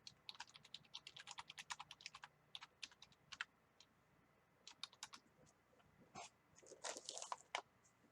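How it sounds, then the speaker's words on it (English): Quiet, close computer keyboard and mouse clicking in rapid flurries of taps, pausing briefly then resuming in dense bursts, with no talking. "Can you hear me clicking away furiously"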